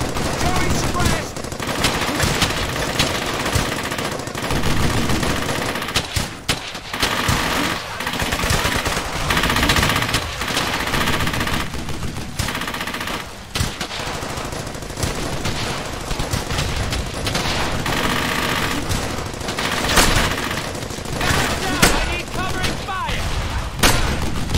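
Relentless close machine-gun and rifle fire from a World War II shooter game, dense overlapping bursts and single shots with no breaks, along with shouted battlefield voices.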